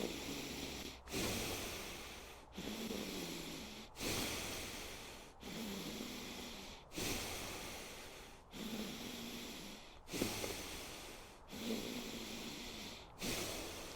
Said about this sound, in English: I try to be intentional and somewhat forceful with my breaths